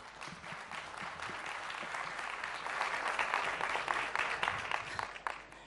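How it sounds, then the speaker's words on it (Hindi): A studio audience at a televised News18 India Chaupal stage event applauds to welcome actress Rakul Preet Singh, with continuous dense clapping that swells slightly toward the middle, heard at a modest level before tapering off. "एक बार जोरदार तालियां"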